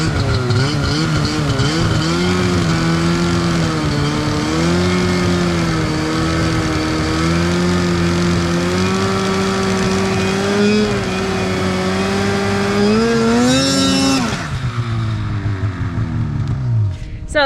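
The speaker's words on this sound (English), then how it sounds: "that's when you just give it a lot of throttle and pop out of that hole." A snowmobile engine is held at high throttle to climb out of a hole in the snow, making a loud sustained drone that rises and wavers in pitch for about fourteen seconds before dropping away abruptly.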